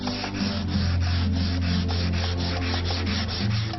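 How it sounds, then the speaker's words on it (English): Wood is hand-sanded with sandpaper before varnishing, heard up close as a brisk, regular back-and-forth rasping of about three strokes per second, with no voices. "do it by hand with sandpaper"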